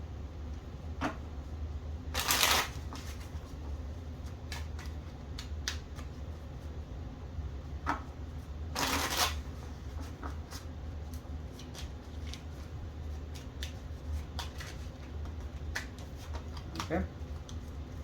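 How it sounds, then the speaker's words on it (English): A deck of cards for the Ten Plagues board game gets a quick shuffle, with soft riffling and a couple of brief, louder card flurries over a steady room hiss, with a speaker talking intermittently. "quick shuffle there, and then reveal the top card there"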